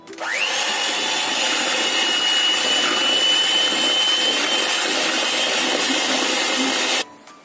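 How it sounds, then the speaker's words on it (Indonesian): Electric kitchen mixer whipping steamed brownie batter at high speed, a loud steady whine that spins up quickly, holds for about seven seconds, then switches off abruptly; no talking. "Di sini saya mixer dengan kecepatan tinggi ya"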